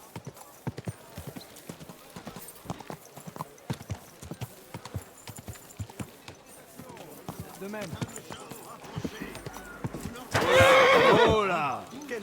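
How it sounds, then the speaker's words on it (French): A horse's hooves clip-clop in a steady rhythm on a hard surface, then the horse gives a loud, close neigh near the end, with people speaking French nearby. "Oh là! Quel beau cheval!"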